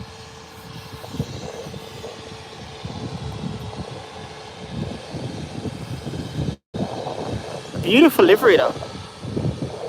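A Neos Boeing 737 jet at Birmingham Airport gives a steady, low engine rumble in the distance, with talk over it and wind or handling noise near the end.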